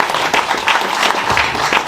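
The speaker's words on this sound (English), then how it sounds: "Please clap for Pals." A crowd at a business awards ball applauds a finalist, a short, full burst of many hands clapping at close range.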